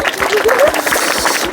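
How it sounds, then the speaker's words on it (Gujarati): Small children clap together in a short burst of applause at a lively group gathering, a dense patter of hand claps running steadily for about a second and a half alongside a speaking voice. "તાળી પાડો."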